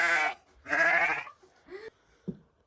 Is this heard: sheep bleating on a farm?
yes